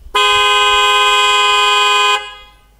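Replacement car horn fitted to a Toyota Landcruiser 200, sounding one loud, steady blast of about two seconds from roughly 15 meters away, then fading out.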